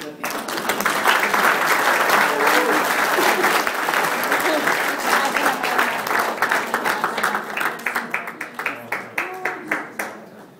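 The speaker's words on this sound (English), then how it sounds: "I'd like everyone to give her a big round of applause for 35 years with me." An indoor audience gives a long round of applause honoring a worker's 35 years of service, dense and loud at first, then thinning into scattered separate claps, with faint voices underneath.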